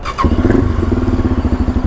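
A loud motorcycle engine idles nearby with a steady, rapid, throbbing pulse that holds evenly from start to finish, and no voices are heard.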